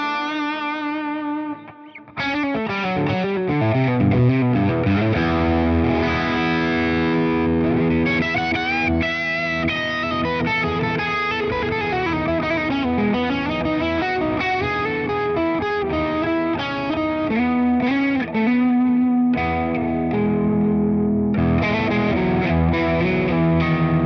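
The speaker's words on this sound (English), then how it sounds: "I've got this T-Rex tape echo for some delay." Electric guitar played through a Mesa Boogie amp tone with a T-Rex tape echo pedal. A continuous, loud, distorted riff with sustained notes runs throughout, trailed by echo repeats and no talking.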